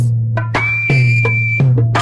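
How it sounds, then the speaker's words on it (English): A steady, high-pitched lip whistle holds one note for about a second over a loud, low hum and rhythmic background sounds. "You put your lips together and blow Like this"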